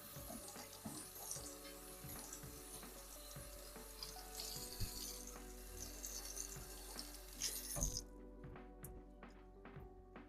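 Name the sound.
rinsing Berkey water filters under running water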